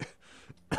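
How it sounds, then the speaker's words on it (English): A short, rough cough from one person, a brief burst followed by a quieter rasp and another sharp expulsion at the end. "Dang, I hate having this cough."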